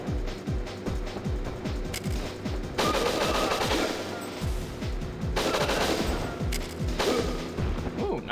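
Rapid bursts of automatic gunfire from the N64 shooter Winback repeat in a steady rhythm, with louder volleys layered over them throughout.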